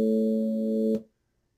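A sustained synthetic chord preset in Adobe Audition 3.0, several stacked tones humming evenly for about a second before stopping suddenly into silence.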